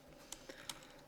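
Light typing on a computer keyboard while writing a document in LibreOffice Writer, three quiet, sharp key clicks spaced irregularly over a soft background hum.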